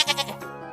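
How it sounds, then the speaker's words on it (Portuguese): A goat bleats once in a short, wavering call with a few quick pulses, close and clear, presented alone as an animal-sound example for children. "Cabra."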